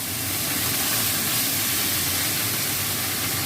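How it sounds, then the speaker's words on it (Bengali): Fish frying in a pan gives off a steady, loud broadband sizzle and hiss that runs unbroken from start to finish, with no talking over it. "এরকম করে এই মাছগুলো আমি ভেজে নেবো।"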